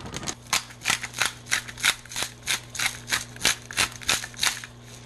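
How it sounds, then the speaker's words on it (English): A spoon stirs cauliflower rice in a pan with a warm sauce, making a steady run of quick, regular scraping and rustling strokes, about three per second, over a faint constant hum. "Give it a nice stir."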